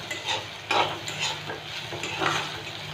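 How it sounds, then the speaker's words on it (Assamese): Bitter gourd frying in a home kitchen pan, a steady hiss of sizzling oil with intermittent scraping and stirring bursts, close and continuous with no talking. "এইখিনি কেৰেলা ভাজিখিনি হৈ আছে"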